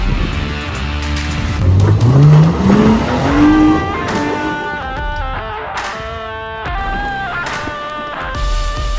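A Jeep engine revs hard climbing a steep, slick hill on Pritchett Canyon near Moab, the pitch rising steadily in gears under heavy throttle, close and loud, then settling into a strained steady drone.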